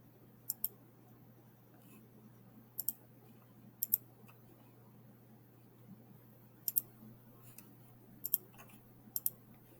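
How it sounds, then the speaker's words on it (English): Sharp mouse clicks on a computer, used to add values in a painting program, come in isolated pairs and small clusters against a quiet background with a steady low hum. "I'm going to click the plus, click OK."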